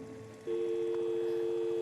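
Outgoing phone call ringback: after a short quiet lead-in, a single steady electronic tone switches on and holds level for over a second while a number is being called. It sounds faint and thin, with no voices.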